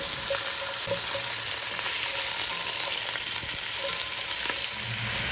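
Spare ribs fry in a pan after spice roasting, making a constant dense sizzle with scattered scraping clicks as they are stirred.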